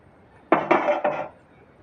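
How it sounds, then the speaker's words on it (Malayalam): A spoon presses and scrapes herbal residue against the inside of a steel pot while making homemade coconut-oil hair oil, giving three close, scraping metallic strokes in quick succession, then quiet. "ഇങ്ങനെ സ്പൂൺ വെച്ച് ഇങ്ങനെ അമർത്തി അമർത്തി കൊടുക്കുക"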